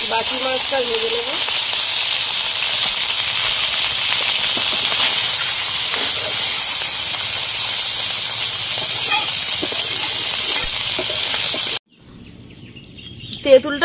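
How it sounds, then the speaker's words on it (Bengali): Small river fish fry in hot oil, a loud, steady hiss and crackle that continues unbroken for about twelve seconds, then cuts off abruptly and leaves only faint, scattered sounds. "বাকি মাছটা ভেজে নেব।"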